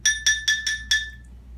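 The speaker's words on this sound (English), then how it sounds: "Instead of tapping the side of the glass with a spoon, you can also blow across the top" A spoon taps the sides of drinking glasses filled with water, giving five bright, clear ringing pings in a quick even rhythm, each note decaying briefly, close and alone.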